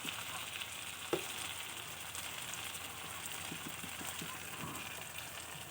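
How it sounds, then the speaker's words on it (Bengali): Pieces of rohu fish sizzling in hot oil in a pan, a continuous frying hiss with a sharp clink near the start and a few soft taps later, heard close with no speech. "আমি মাছগুলো একে একে সাজিয়ে দিচ্ছি আর এই মাছটা হল রুই মাছ নিয়েছি আমি"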